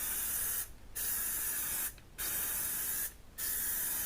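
Aerosol can of Plasti Dip hissing steadily as a second coat goes onto a helmet, three sustained spray bursts separated by brief pauses, close and fairly loud.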